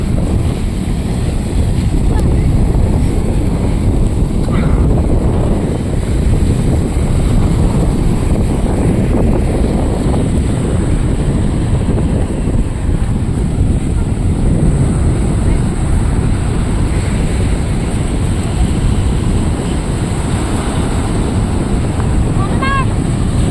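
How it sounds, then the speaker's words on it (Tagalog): Steady roaring surf of strong sea waves and heavy wind noise fill a beach scene in Lobo, Batangas continuously, loud and close, with no clear breaks. "Ang lakas ng alon. Grabe na laki ng alon."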